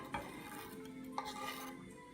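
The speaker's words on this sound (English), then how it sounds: "So you're now just mixing" Rice and bacon pieces are mixed by hand into a cabbage roll filling, giving soft, steady squelching and stirring with a couple of sharper clinks near the bowl.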